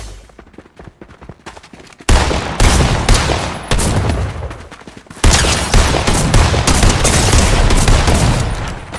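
Rapid bursts of gunfire from a scoped assault rifle in Fortnite, loud and close, starting after a quieter opening and continuing as dense, repeated volleys with brief gaps between them.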